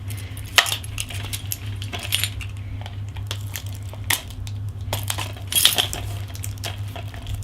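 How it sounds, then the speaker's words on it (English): Keys jangling and clinking in several short bursts during the unboxing of a BioShock Infinite Ultimate Songbird Edition collector's box, heard close over a steady low hum, with no talking. "Keys."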